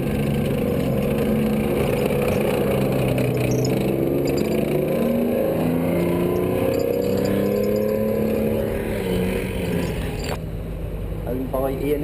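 A military truck fitted with an automatic gearbox and a Rolls-Royce multi-fuel engine runs with a steady, loud diesel rumble and shifting engine tones, heard continuously at a steam fair.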